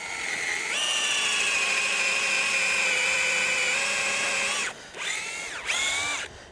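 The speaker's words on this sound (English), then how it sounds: "So I'm going to drill in." A power drill whines steadily as it bores into a living maple tree for tapping, then cuts out and gives two more short bursts.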